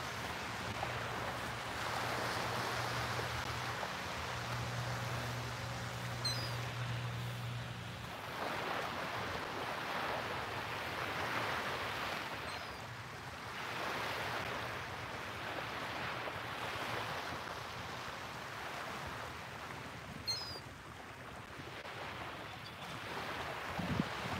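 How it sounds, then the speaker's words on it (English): Steady surf rolling and washing in waves, with gusts of wind buffeting the microphone and a low engine-like hum early on. "soak in the sounds of the waves"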